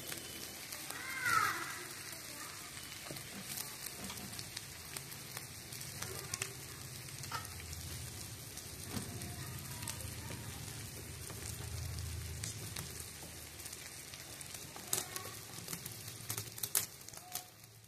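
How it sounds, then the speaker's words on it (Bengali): Potatoes fry in oil with a soft, continuous crackling sizzle, faint and close, with occasional clicks and a brief cat-like meow near the start. "আলুগুলো একটু লাল লাল করে ভেজে তুলবে"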